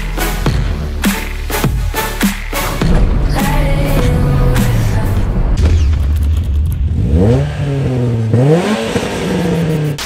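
Peugeot 206 S16 engine revving hard toward high rpm, loud and close, with rising and falling pitch sweeps, sharp pops and bangs, and no talking over it.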